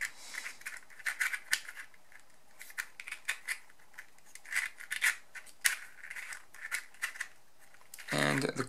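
Clicking, scraping turns of a plastic twisty puzzle mod being rotated during a solve, a quick irregular series of close, crisp clacks and rattles with short pauses, ending in a brief denser burst.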